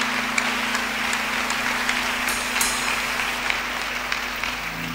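Crowd of worshippers at a prophetic church gathering in Koforidua, Ghana, claps together in a continuous loud patter, a steady hum beneath and occasional sharper claps standing out.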